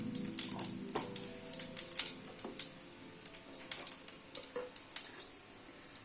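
Panch phoron and a torn dried red chili crackle in a little hot oil over a low gas flame, with faint scattered pops and sizzles and small clinks of a pan, close and quiet, with no talking.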